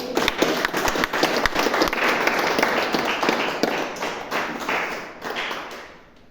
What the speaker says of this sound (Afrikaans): Ja, ook hier is een lekker handen klap.